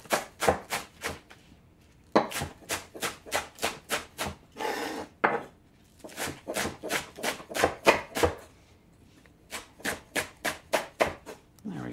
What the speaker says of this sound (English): I'm going to chop up some green onion, and this is 2 bunches of green onion.